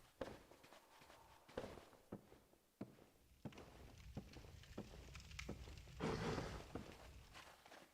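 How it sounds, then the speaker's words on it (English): Footsteps crunching on snow in Dark Souls Remastered, a steady run of soft thumps and pats at moderate distance over a low ambient rumble, with a brighter scuffing burst near the end. "I can hear, like, footsteps on the snow."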